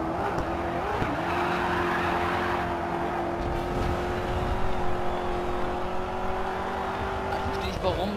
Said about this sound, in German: manche Drifts kann ich in dem Spiel so geil nehmen